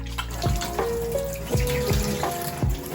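Tap water runs steadily into a basin while hands are wetted under the stream, with splashy surges and a few brief sliding tones over the flow, close and moderately loud.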